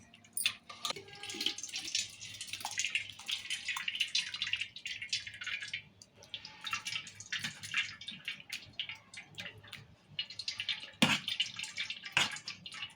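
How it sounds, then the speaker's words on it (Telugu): Thin tomato mixture for tomato rasam poured through a kitchen strainer, a steady close trickle and drip of liquid with brief splashes, no voices. "ఇప్పుడు ఇట్లా అనుకొని మనం జల్లెట్లో పోసుకోవాలి."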